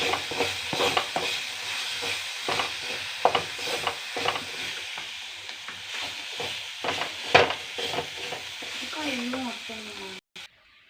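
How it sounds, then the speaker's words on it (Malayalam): A utensil scrapes and stirs through sizzling food in a pan, with repeated scraping strokes over a steady frying hiss, close up. "നല്ലോണം ഇളക്കി കൊടുത്ത് ഇതൊന്ന് മിക്സ് ചെയ്യുക"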